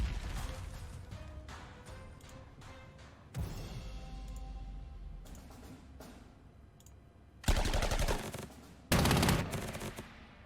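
Artillery and gunfire in the strategy game Panzer Corps 2 land as a series of sharp bursts and rattling volleys, with two loud heavy blasts near the end, set against quiet clicking, no talk.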